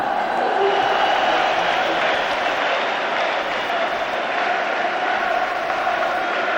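A large football crowd roars and cheers in celebration of a Celtic win, a loud, dense, continuous wash of voices filling a big stadium from start to finish.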